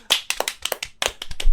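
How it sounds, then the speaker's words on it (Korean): A small group clapping hands in a short burst of sharp, closely spaced claps, near and fairly loud, with no talking. "박수 쳐드리겠습니다."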